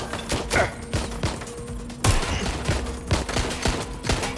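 Gunfire in the Watch Dogs Legion video game, rapid bursts of automatic shots crackling in quick irregular volleys with heavier thumps mixed in, loud and close throughout.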